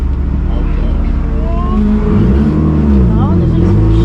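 A Honda car drives on the Lohéac race track, its engine droning loud and close, with rising and falling revs throughout.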